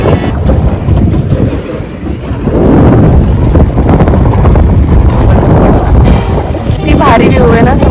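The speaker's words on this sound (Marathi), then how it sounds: "एकदम थंडगार वारे." Strong, cold wind roars across the microphone during a paddle boat ride on open water, a loud continuous buffeting rush with no pauses.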